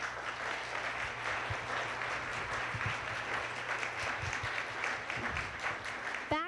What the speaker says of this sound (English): So they all deserve a big hand of applause.